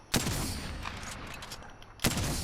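Two sharp gunshots from the Apex Legends video game, about two seconds apart, each with a short decaying tail, heard against low background game ambience.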